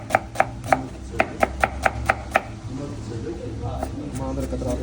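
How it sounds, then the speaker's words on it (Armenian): A knife chops two onions finely on a board, about ten quick sharp strokes at an uneven rhythm close by, then fading into a quieter background with light kitchen noise. "մանր սոխը կտրտել ենք"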